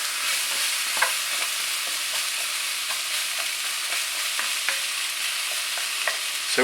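Spices for a hearty vegan vegetable stew sizzle steadily in a pot while a utensil stirs them, with close, repeated scraping strokes over the constant frying hiss and no talking.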